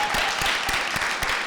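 An audience at a student government senate debate gives steady applause for College of Business candidates, a moderate, even stretch of many hands clapping with no voices over it.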